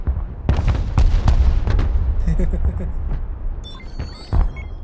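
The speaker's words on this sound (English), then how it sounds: "Artillery reporting in. I'm ready. And fire." Artillery fire in a military combat video game: several heavy booms land over a rumbling battle mix, with chatter and other game effects in between.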